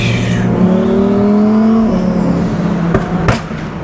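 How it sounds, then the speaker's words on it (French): A McLaren 720S widebody's twin-turbo V8 revs loudly and steadily, pitch climbing then dropping off, with a faint turbo whistle and sharp pops near the end. "T'entends les turbos, je sais pas si vous arrivez à bien l'entendre."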